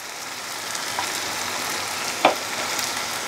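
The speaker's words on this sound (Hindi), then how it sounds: "गैस का फ्लेम हाई करके हम 3-4 मिनट अच्छे से भूनेंगे।" Tomato paste with ginger-garlic paste frying in a pan over a high flame, a steady soft sizzle throughout with one brief louder crackle or stir near the end, no voices.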